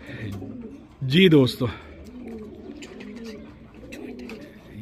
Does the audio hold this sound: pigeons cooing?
yes